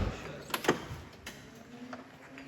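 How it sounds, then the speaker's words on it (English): On a 1994 Corvette with older hinges, the driver's door swings shut with a couple of faint thuds and latch clicks over quiet background hiss. "My door closes fine."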